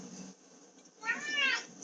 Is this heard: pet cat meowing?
yes